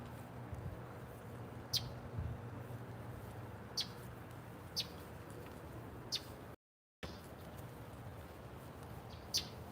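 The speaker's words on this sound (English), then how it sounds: "You hear the birds?" Faint birds chirping at a distance in a garden on a morning, a few brief isolated calls spread over a steady outdoor background hiss.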